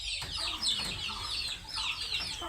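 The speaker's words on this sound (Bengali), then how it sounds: "সেই মুরগিগুলা" Young chickens in a small backyard coop cluck and chirp repeatedly at close range, overlapping calls in quick uneven bursts over faint background noise.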